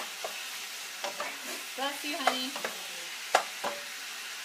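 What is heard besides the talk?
chicken frying and being stirred in a pan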